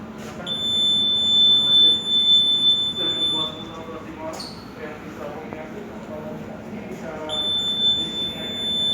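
An EAS anti-theft alarm, model CA-35, at a games centre in Jakarta, gives a shrill, steady high beep that sounds twice with a pause between, while people talk in the busy background.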